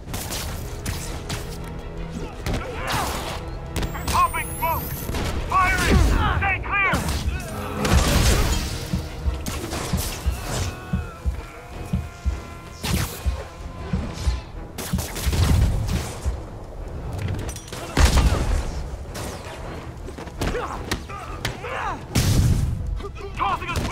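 Video game combat in a Spider-Man mission breaking into Fisk's place, with bursts of gunfire, crashes and booms from smoke grenades scattered across the scene, loud and irregular, mixed with shouted character voices.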